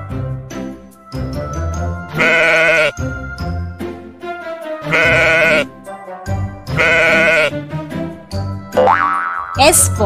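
Sheep bleating in repeated loud, wavering calls separated by short pauses, with a brief springy boing effect near the end, in a children's alphabet vocabulary lesson.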